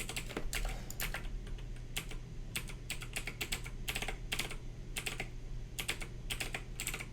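Loud, clacky computer keyboard typed on during a live JavaScript coding session, with quick bursts of keystrokes separated by short pauses, close up and without talk.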